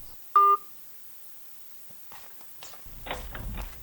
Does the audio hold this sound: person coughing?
no